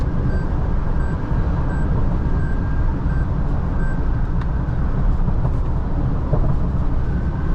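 Toyota Hilux with automatic transmission cruising on a highway: steady, loud broadband engine drone and tyre and road roar, continuous and unbroken, with a faint high whine riding on top.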